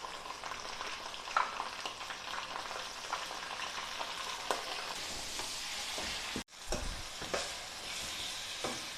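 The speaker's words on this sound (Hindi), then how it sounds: "सारा चिकन डाल देंगे इसमें और इसकी भुनाई अच्छे से करेंगे हम" Chicken frying with garlic, ginger and green chilies in a pot for chicken curry, giving a steady close sizzle with repeated stirring scrapes and a brief thump partway through.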